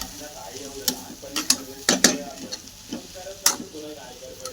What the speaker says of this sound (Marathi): आता मी मस्त परतून घेऊ सुकट